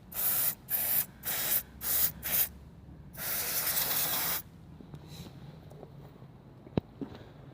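Aerosol freeze-spray penetrant sprayed onto Dana 60 front brake bolts, five short loud hissing bursts followed by one longer sustained spray, then quiet with a faint metallic tap.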